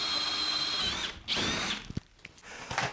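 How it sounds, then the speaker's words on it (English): A drill bit bores through wood, a close, loud whir that runs about a second, pauses, bursts again briefly, then trails off into small knocks and a final short spin. "I'm always so impressed at how fast this kind of bit can drill through wood."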